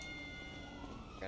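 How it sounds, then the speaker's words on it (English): A cat meows in GTA V during a Halloween trick-or-treating session, a brief close meow mixed under loud, excited voices. "It's a kitty cat."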